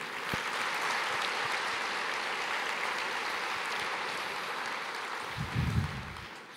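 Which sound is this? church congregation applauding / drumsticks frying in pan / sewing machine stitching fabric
church congregation applauding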